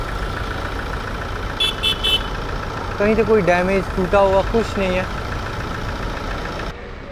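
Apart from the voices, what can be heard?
Tata Hexa SUV engine idling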